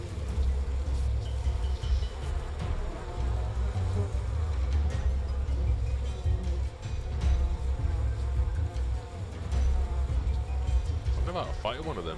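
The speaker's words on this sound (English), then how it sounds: "we're going to have to tackle the bees again" Bees swarm in the video game We Happy Few, making a constant loud drone that continues for the whole stretch, with faint game sounds and a brief voice-like bit near the end.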